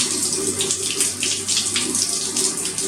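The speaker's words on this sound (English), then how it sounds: "first wet the brush under running tap water" Tap water runs steadily over a facial cleansing brush, a close, continuous splashing hiss with no voices.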